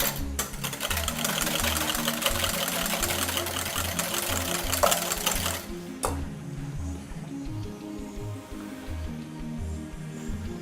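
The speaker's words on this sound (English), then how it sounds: "So you add a little bit and you whisk." An electric whisk drones loudly through chocolate cake batter as eggs are whisked in, then cuts off abruptly around the midpoint, leaving quieter scraping and kitchen clatter close by.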